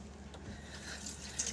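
Cold tap water running into a sink for face washing, a faint steady splashing stream with a few brighter splatters near the end.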